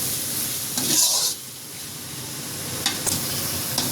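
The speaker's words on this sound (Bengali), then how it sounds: "পেঁয়াজ আর কাঁচা মরিচগুলো হালকা করে ভেজে নেব।" Onions and green chilies fry in hot oil in a wok, a steady close sizzle with brief louder hissing flares from stirring, part of cooking a fish-head, drumstick and potato curry.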